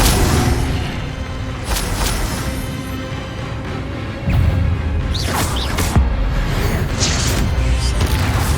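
Fire spell cast in the Hogwarts Legacy game, a run of booming bursts and whooshes over a constant rumbling bed, with a sharper impact near the middle and several brief swishing flares after it.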